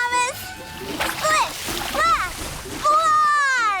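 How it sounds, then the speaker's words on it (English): A cartoon splash of muddy water as Thomas the Tank Engine drives through a puddle, heard as bursts of splattering under lively character voices and narration, with speech nearly all the way through. "Muddy water splattered everywhere."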